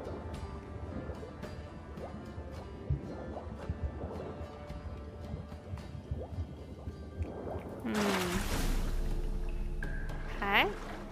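Geralt swims through water in The Witcher 3, with soft gurgling, dripping and sloshing throughout and a louder splashing burst near the end, set under ongoing game ambience.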